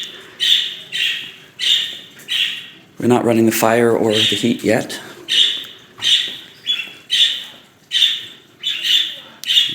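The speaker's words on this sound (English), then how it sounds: "In the living room, we have birds" Pet birds in a living room chirp and squawk in a steady run of bright, repeated calls, loud and close, with a person talking over them partway through.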